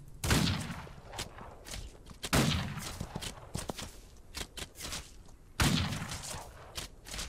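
Pebble gunshots in the Outlaws of the Old West video game crack out as sharp bursts, several loud broadband hits spaced irregularly with softer thuds and clatter between them.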